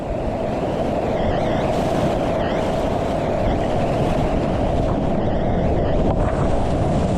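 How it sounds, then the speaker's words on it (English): A Dagger Indra kayak runs whitewater rapids on the Cheoah River, with a steady, loud roar of rushing water and wind buffeting close to the microphone throughout. "Watch when I hit this little boof right here."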